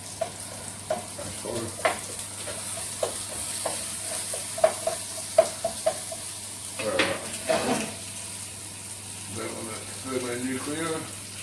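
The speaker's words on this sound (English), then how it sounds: "while the onion's frying" Onion frying in olive oil in a pan gives a soft background sizzle, broken by scattered stirring clatters and a short splash of running water, with voices talking intermittently over it.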